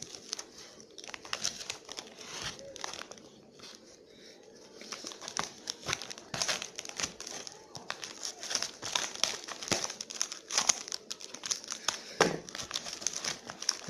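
Scissors cut open the plastic and cardboard packaging of a microphone, with steady crinkling, snipping and rustling close up, a brief quieter pause, then busier crackling handling.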